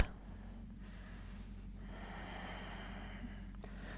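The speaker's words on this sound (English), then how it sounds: "Nice big breath." A deep breath in and out during a yoga happy baby pose, a soft close airy inhale and exhale with a brief snort-like sniff, over a low steady background hum.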